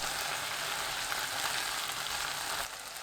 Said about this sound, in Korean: 멸치액젓 1큰술, 청양고추, 홍고추 넣고 센 불로 2분 볶습니다